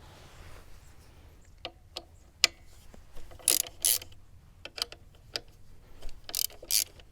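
Bolts being removed from a Husqvarna 701 Enduro's X-Frame pannier rack, heard as sparse, close metallic ticks and short ratcheting bursts from a hand tool, separated by quiet pauses, with no voices.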